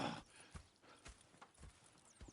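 Horses in the video game Red Dead Redemption 2 clip-clop in irregular hoof strikes, fairly faint, with a short whinny-like noise at the start and no talk.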